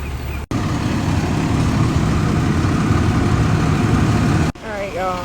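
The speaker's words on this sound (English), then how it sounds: "the fire truck just arrived." A fire truck's engine idles close by in a steady, loud low rumble that runs almost the whole time, cut off briefly near the start and again near the end.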